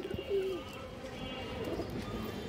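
A pigeon on a farm gives a soft coo early on, faint beneath a person talking nearby, with light rustling around it.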